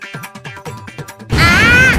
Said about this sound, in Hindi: सर, पद्दू के इस बॉक्स में था पटाखा।